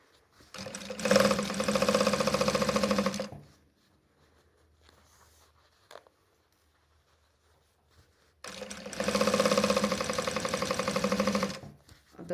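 A sewing machine stitches a skirt in two fast, steady whirring bursts separated by a quiet pause, the second run including a short backstitch.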